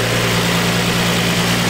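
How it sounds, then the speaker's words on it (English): A car engine idles smoothly right after its throttle body has been cleaned, a loud, steady, even drone heard up close with no one talking. "Engine sounds pretty healthy."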